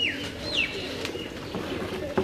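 Fancy pigeons coo and call in a loft, with a couple of brief rising-and-falling notes over a soft, busy background murmur.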